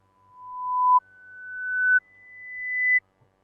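Three pure electronic tones play in a row, each about a second long and each a step higher than the last. Each one swells from soft to loud and then cuts off abruptly, with a faint click at the end and no speech.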